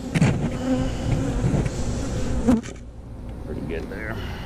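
Honey bees buzz steadily during a hive inspection with beetle traps, a dense close drone of many insects with some clicks and handling knocks, easing slightly partway through.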